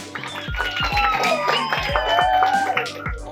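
Audience applause for a junior-category winner at a children's drawing contest in a shopping mall, steady mixed clapping with a few cheers running throughout, fairly close and full.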